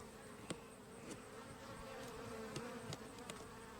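Honeybees buzz around a beekeeper's head while a hive is opened, a steady close insect drone with a few brief louder passes near the ear.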